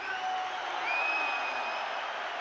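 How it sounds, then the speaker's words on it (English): A stadium crowd applauds a Celtic goal against Qarabag, a broad, steady roar of clapping and cheering heard from a distance, sustained evenly for a couple of seconds with faint whistles rising above it. "just listen to that applause"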